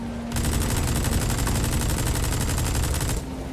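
Rapid automatic gunfire in Metal Gear Solid V: The Phantom Pain, a dense, continuous burst of shots lasting about three seconds, loud and close, with a steady hum running beneath it.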